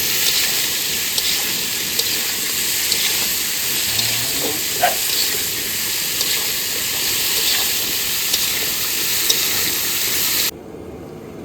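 Cauliflower frying in a pan with turmeric and salt gives off a steady, dense hiss of sizzling oil that holds evenly, then cuts off abruptly near the end.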